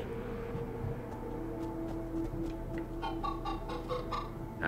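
Chickens cluck softly in the Minecraft Story Mode video game, quiet scattered calls against a faint steady background tone, growing a little busier toward the end, with no talking.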